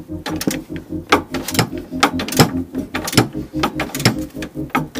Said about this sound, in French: cliquet télescopique et je dévisse.